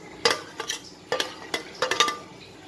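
A spoon works butter into an ice cream cake mixture in a bowl, giving a few irregular clinks and scrapes close by with quiet pauses between them.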